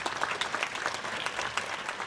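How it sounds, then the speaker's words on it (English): At a corporate prospectus event, an audience applauds a company chairman being welcomed, a brief, dense patter of many hands clapping at moderate volume. "A big round of applause, ladies and gentlemen."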